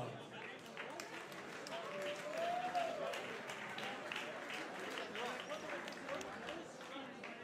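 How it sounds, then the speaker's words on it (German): Arena crowd applauding both boxers after a heavyweight title fight ends by TKO, steady broadband clapping with a faint voice over it. "nochmal einen großen Applaus für beide Boxer"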